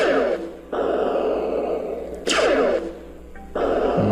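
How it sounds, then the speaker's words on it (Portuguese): Explosion effects from a JavaScript space battle game, a few broadband bursts with sweeping, falling tails repeating roughly every second and a half, loud and dense against a steady background. "Vamos ver da explosão agora."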